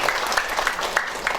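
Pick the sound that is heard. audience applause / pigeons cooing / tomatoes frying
audience applause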